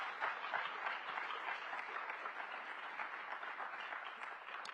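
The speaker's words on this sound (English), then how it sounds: "I think that deserves a round of applause" An audience at a downtown forum with the DC mayor gives steady, even applause that is heard from a distance, sustained at a moderate level throughout.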